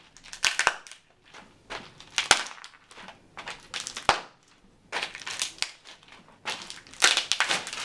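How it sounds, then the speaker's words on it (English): Dry pasta snapping and crunching up close in a series of crisp, crackling bursts, each a cluster of sharp breaks separated by short pauses. "The sound of pasta breaking can imitate the sound of a character's neck breaking"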